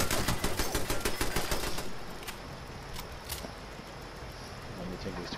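Rapid automatic gunfire from turrets in a video game rattles loudly for the first two seconds, then gives way to scattered distant shots over a noisy background, with people talking.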